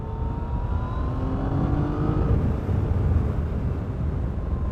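Yamaha Tracer 900 GT motorcycle engine accelerating steadily, a sustained rising drone with climbing harmonic tones over wind roar, close and fairly loud, no talking.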